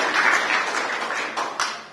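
Applause from a gathered audience at an academic book presentation honouring a professor, a loud burst of clapping that thins and fades over two seconds with a couple of sharper claps near the end.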